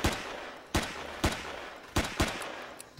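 Pistol fire in the sci-fi survival game Empyrion Galactic Survival: sharp single shots spaced irregularly, about six over a few seconds, loud and close with short decays.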